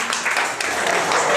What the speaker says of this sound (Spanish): Bien, un aplauso para Feli.